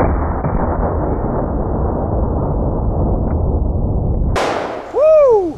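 A single sharp, loud gunshot from a Smith & Wesson 500 Magnum revolver cracks out near the end, after several seconds of steady outdoor rumble.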